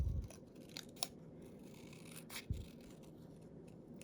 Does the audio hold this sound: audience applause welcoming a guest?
no